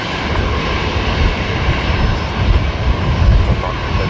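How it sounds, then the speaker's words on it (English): An Embraer 190 jet airliner from Cairns lands at Brisbane Airport, its engines a steady, broad roar that swells slightly toward the end, close and loud with no talk. "Embraer 190 from Cairns."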